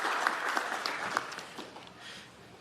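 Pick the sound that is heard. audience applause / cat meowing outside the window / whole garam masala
audience applause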